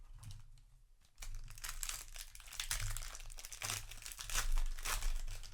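A foil Magic: The Gathering Commander Legends: Battle for Baldur's Gate booster pack wrapper crinkles and tears open close up, a brief quiet pause giving way to sustained sharp crackling and rustling.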